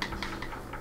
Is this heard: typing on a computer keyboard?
yes